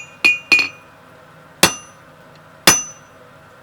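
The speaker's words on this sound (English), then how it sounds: "Now you can come and hit the taper and taper it up" Hot steel is forged into a taper on a door handle: four sharp, ringing hammer blows on an anvil in an uneven rhythm, loud and close, each decaying briefly with a metallic ring.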